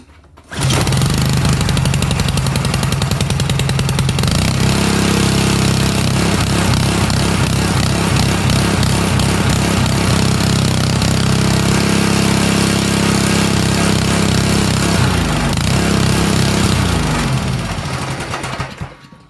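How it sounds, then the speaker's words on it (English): A Karcher GC160 pressure washer with a 5 HP Honda gas engine runs at raised speed, a loud, steady, buzzing engine drone held for most of the stretch before tapering off at the end, close by with no talking. "I increased the speed on this one. Gives you a little bit more pressure, and it seems to be running pretty good"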